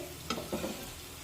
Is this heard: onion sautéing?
yes